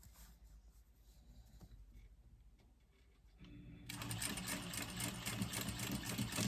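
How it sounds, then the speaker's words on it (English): A sewing machine chain-stitches a tote bag, starting with faint, slow handling noises and then running into a steady, fairly loud whirring drone of rapid stitching for the last few seconds. "so I'm going to continue stitching"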